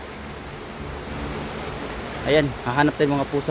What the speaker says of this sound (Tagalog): Grabe ang ulan guys oh. Lakas ang ulan.